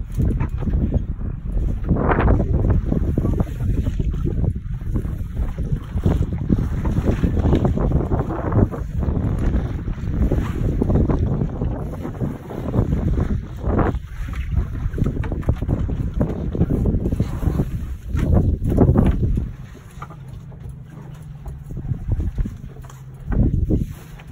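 Family sailboat on the Atlantic under sail with the genoa unrolled and the engine off: loud, gusting wind buffeting the microphone over rushing water, rising and falling throughout, with no talking.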